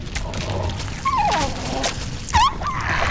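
A wolf in a vampire video game gives a few high, thin whimpers and yelps over a low game background, short and fairly close.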